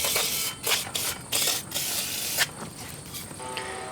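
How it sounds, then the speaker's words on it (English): Brake and parts cleaner sprays onto a rear brake rotor of a 2008 Hyundai Elantra 2.0L in several short, loud hissing bursts, each separated by brief pauses. "And a little more brake and parts cleaner for where I touch the rotor."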